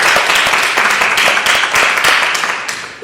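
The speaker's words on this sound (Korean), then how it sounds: "이분에게 좀 박수 좀 쳐주세요." An audience at a Korean legislative training lecture claps for a participant, a loud, close burst of many hands with sharp individual claps, thinning and fading slightly toward the end.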